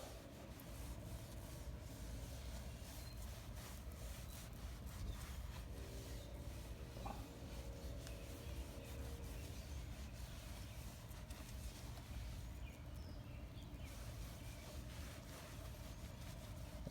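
A towel rubs over the grimy steering wheel of a Crown Victoria Police Interceptor in a steady, soft scrubbing that runs throughout, close and low, with a faint background hum.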